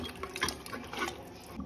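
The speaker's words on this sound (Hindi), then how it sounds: "1 गिलास से थोड़ा कम मैंने पानी लिया है उसे ऐड कर देंगे" Water poured from a glass into a pressure cooker holding mutton for Hyderabadi biryani, a soft, steady splashing pour lasting under two seconds, close and fairly quiet, with no talk.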